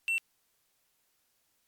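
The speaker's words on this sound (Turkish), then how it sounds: "jump için yani zıplamak için bip sesi." A single short electronic jump beep from the video game Mine Racer, bright and clear, followed by silence.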